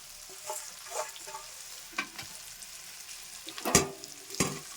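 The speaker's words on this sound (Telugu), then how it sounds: "ఇక మనం వేయించుకున్నాం బెండకాయ ముక్కలు" Okra pieces crackle and sizzle frying in a hot pan while a utensil stirs and scrapes, with a few sharper clatters near the end.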